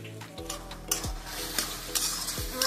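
Taro leaves cook with a fish head in a pan, sizzling steadily up close as a utensil stirs them, with a few soft scrapes and knocks against the metal.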